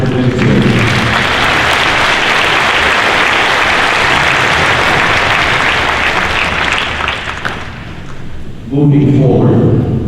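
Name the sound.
audience round of applause for Lululemon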